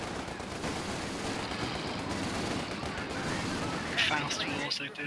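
Machine gun fire rattles continuously in Company of Heroes 2 during a 4v4 Nordwind match, dense battle noise layered with other shots and effects, with players talking over it.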